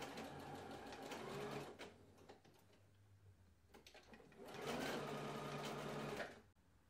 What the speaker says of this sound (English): Now I'm gonna just sew across here from both sides.